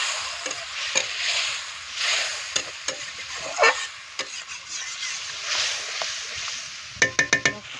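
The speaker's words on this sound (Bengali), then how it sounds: "জল দিয়ে কষাবো মশলাটা।" Powdered spice masala is stirred and sautéed with a splash of water in a pan over a wood fire outdoors in a village, with soft sizzling, scattered scraping stirs and a quick run of sharp utensil taps at the end.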